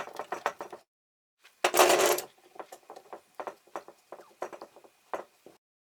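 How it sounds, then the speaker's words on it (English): Bar clamps being tightened onto glued oak planks, a fast run of close ratcheting clicks and ticks, one louder scraping burst in the middle, then more sharp clicks at an uneven pace with no talking. "The most fun part is clamping like there is no tomorrow."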